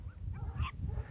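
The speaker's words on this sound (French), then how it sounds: "Alors ce sont des chiens qui ont 5 semaines" A brief, thin whimper from five-week-old puppies rises and falls over a low rumbling background, close and fairly soft.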